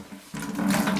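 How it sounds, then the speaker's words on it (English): Water squeezed from a waterlogged sponge splashes into a bucket while a rocking toilet is being fixed: a short, close trickle and spatter that starts abruptly after a brief quiet moment. "I put the sponge in there and absorb the water, and then I squeeze it into the bucket"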